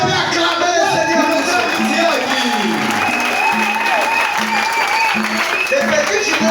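A church congregation at an Assemblies of God service in Kinzaou-Mvuete claps steadily, a dense, loud wash of applause. Raised voices and cheering carry over it throughout.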